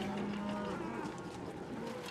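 Cattle on the African savannah low in a drawn-out moo, a single fairly distant call over a hissy outdoor background.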